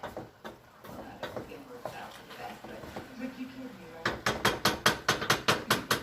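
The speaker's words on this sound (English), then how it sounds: "we're just going to stir that all around" Shrimp and chicken stir fry being stirred in a pan, with a utensil clinking and scraping against the metal in a steady run of sharp taps that quicken into a regular rhythm, while someone talks over it.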